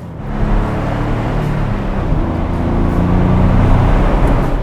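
Custom Porsche 993 Targa driving along a winding road in Nassau County, its engine a steady, loud low-pitched hum with a few shifts in pitch and broadband road noise throughout, no voices.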